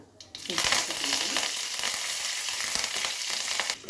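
Spices and curry leaves fry in a pan of hot oil as a tempering for dalia upma. A loud, dense sizzle bursts in after a brief pause, crackles on steadily with stirring scrapes, then cuts off near the end.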